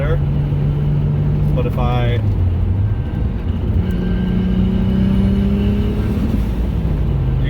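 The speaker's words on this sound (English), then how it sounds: "The CD009 transmission is notoriously loud." A 2JZ-swapped Lexus GS300 with a manual CD009 transmission drives along, its loud transmission whine rising and falling over engine and road rumble, with someone talking inside the car.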